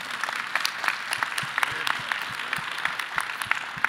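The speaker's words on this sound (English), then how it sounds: "I'd like to give a big round of applause to him for doing that" Audience applause for a speaker at a low-carb diet conference Q&A session, steady dense clapping from a sizable crowd throughout, with a voice briefly speaking over it.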